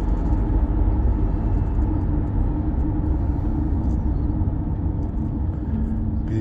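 A 1999 Audi A8 drives at speed, its interior filled with a steady low engine and road rumble that holds constant throughout, with someone speaking quietly over it.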